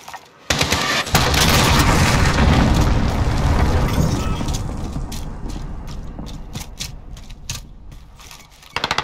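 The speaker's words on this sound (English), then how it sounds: "Allied cruise missile launched." A cruise missile strike in the video game Modern Warfare: a heavy explosive boom swells into a long, loud rumbling roar that slowly fades, with scattered crackling bursts and clicks toward the end.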